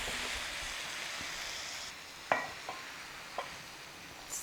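Vegetarian vegetable gravy is ladled out of a pot to serve with plain rice. A soft steady hiss gives way to a few sharp spoon clinks and scrapes against metal, close by and with no talking.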